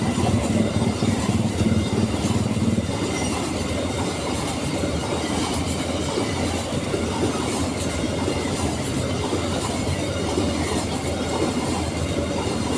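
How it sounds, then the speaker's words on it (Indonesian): A long Babaranjang coal train of over 30 wagons, hauled by two locomotives, rolls past a double-track level crossing, its steady rumble and clattering wheels loud and continuous throughout with faint squeals. "kalau kereta Babaranjang kayak gini ya. Apalagi dia sudah ditarik sama 2 lokomotif gitu"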